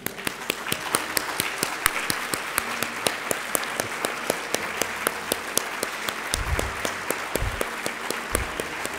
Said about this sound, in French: Je vous demande donc de vous lever et d'applaudir très chaleureusement